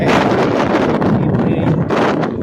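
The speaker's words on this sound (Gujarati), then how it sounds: "મસ્ત ઠંડી ઠંડી હવા આવી રહી છે" Strong wind buffets the microphone in a loud, continuous low roar that rises and falls slightly throughout.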